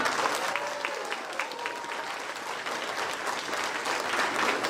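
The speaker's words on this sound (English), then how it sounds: "Clap for him." An audience applauds during a speech honoring a street cleaner in Bangalore, sustained even clapping at moderate distance with a faint voice briefly audible early on.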